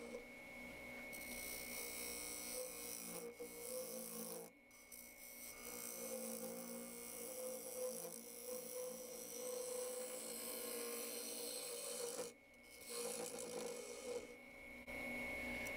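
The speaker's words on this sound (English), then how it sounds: "I'm starting the hollowing here with my 1/2 inch bowl gouge." A half-inch Robert Sorby bowl gouge hollows a bubinga wood bowl on a lathe, giving a steady, loud scraping rasp with a constant whine that cuts out briefly twice before resuming.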